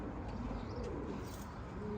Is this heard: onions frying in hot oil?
no